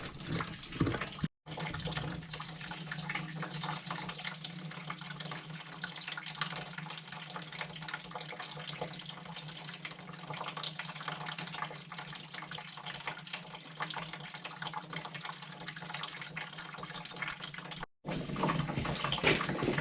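Cider drains steadily out of a keeving vessel in a continuous, soft liquid rush that runs for most of the stretch, broken by two brief dropouts.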